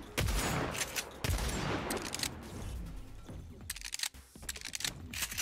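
Gunfire in the Agents of Mayhem video game, rapid crackling bursts of shots in quick volleys, loud and busy with brief pauses between strings of fire.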